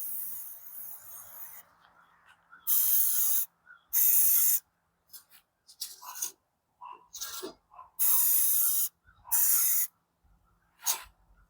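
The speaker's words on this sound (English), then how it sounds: "I'm just gonna spray this one, and I just take it and spray it lightly." Short, bright hissing bursts from a spray can lightly coating a laser-cut name plate, several separate sprays of a second or so with quiet gaps and small handling rustles between them.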